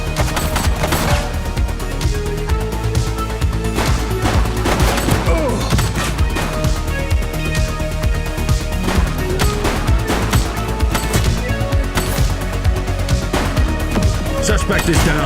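Dense, continuous gunfire from a police shootout in the video game The Precinct, loud rapid bursts and single shots stacked over one another throughout, with in-game voices shouting under the barrage.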